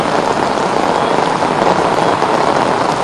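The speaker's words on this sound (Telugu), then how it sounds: "గ్రేటర్ వ్యాప్తంగా అన్ని ప్రాంతాల్లో ప్రస్తుతం వర్షం జోరుగా పడుతుందని చెప్పుకోవచ్చు" Heavy rain pours in Hyderabad, Telangana, near the Secretariat, making a loud, dense, unbroken hiss that stays steady throughout with no voices.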